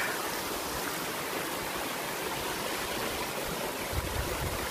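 Steady, dense rush of falling water from the top of Singsing Kelesih waterfall in Bali, with clear water pouring down. It is loud, continuous and close, with no voices.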